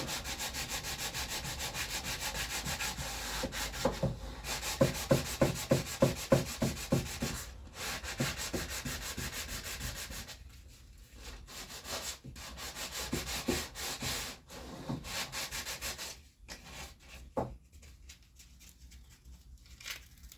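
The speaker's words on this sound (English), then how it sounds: "tease that edge with the sandpaper." Sandpaper rubbing along the edge of a bodhran's wooden frame, a steady rasping scrape with a run of quick rhythmic strokes, then slower, fainter passes with brief pauses, close up and without talk.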